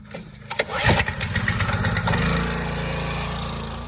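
A small pressure washer engine starts on a pull of the cord with the choke on, sputtering through a few rough firing pulses before settling into a loud, steady close-up idle.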